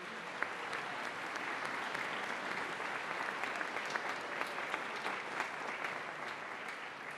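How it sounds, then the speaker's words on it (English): An audience applauds a middle school band at an all-county band concert, a steady dense wash of clapping from a large crowd lasting throughout without a break. "Let's give them another round of applause"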